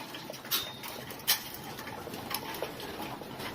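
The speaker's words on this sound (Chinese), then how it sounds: "这个地刚扫过，鸽子都回来了，" Racing pigeons returning to a freshly swept loft floor, with soft wingbeat flutters and landing thumps at irregular intervals over a steady background hum, a couple of louder bursts standing out.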